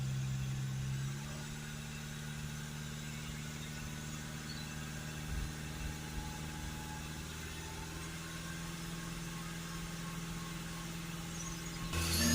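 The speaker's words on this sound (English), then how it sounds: "we're just going to increase the revs of the vehicle" An Audi A6 2.0 TDI diesel engine held at 2500 RPM hums steadily, a quiet, even drone with faint low vibration and no talking.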